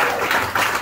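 Comedy club audience applauding at a live stand-up show in New Hope, Pennsylvania, a dense steady wash of many hands clapping close and loud for just under a second.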